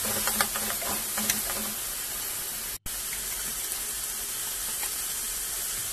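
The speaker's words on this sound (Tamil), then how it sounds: "வெங்காயம் ஃப்ரை ஆனதும் 2 தக்காளி கொஞ்சம் பெருசு பெருசாக கட் பண்ணி வச்சுருந்த தக்காளியை ஆட் பண்ணி இதையும் ஃப்ரை பண்ணிக்கலாம்" Tomatoes cut into large pieces frying with onions in a pan for a black-eyed bean kuzhambu: a steady close hiss and sizzle fills the clip, with a few light clatters early on and a brief cut near the middle.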